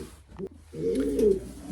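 An old racing pigeon at its loft coos once in a low, soft, throaty rolling call, close by and alone. A few faint rustles come just before it.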